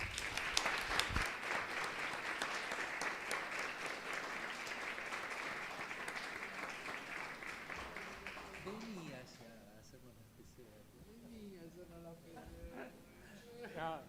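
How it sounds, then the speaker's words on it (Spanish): Conference attendees at a clinical mycology meeting clap together in a steady, dense applause that gradually tapers, with people beginning to talk as it dies down. "el aplauso es para toda la gente que está ahí"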